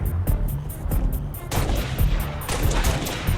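Gunfire from the video game Halo Reach, during a mission against grunts and jackals: loud, close repeated shots in bursts that fill the whole clip with no talk.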